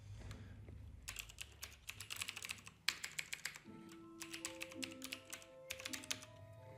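Rapid keystrokes on a computer keyboard enter a server IP address, coming in quick bursts with brief pauses between groups. The clicking is close and clear, with no voice over it.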